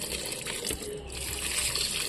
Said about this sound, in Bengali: তাই চলে এলাম একটু গাছগুলোতে জল দিতে